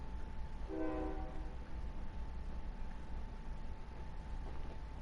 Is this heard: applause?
no